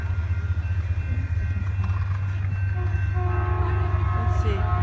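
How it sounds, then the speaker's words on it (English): Express commuter train led by an MP36 locomotive, heard nearby as a heavy low rumble with a sustained horn blast rising toward the end. "here comes the Express with the MP36 leading finally"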